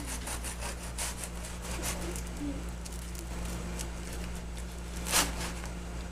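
Rhythmic scratchy sawing of a knife through the crisp golden crust of French bread, steady strokes at close range with a sharper crackle near the end.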